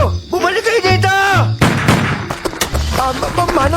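Gunshots ring out in a Tagalog audio drama about a robbery at a roadside eatery, sharp loud bursts punctuating excited shouting voices and dramatic music.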